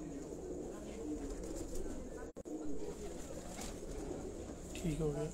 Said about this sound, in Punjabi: ਇਹ ਕਿਹੜਾ ਕਬੂਤਰ ਹੈ ਜਨਾਬ ਇਹ ਚੌਪਦਾਰ ਕਬੂਤਰ ਹੈ